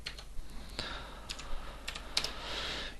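Keys clatter on a computer keyboard as CSS code is typed, a quick irregular run of close, crisp clicks with brief pauses between bursts.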